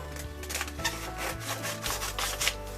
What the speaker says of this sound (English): I want to take my scissors and I'm going to cut out these smaller areas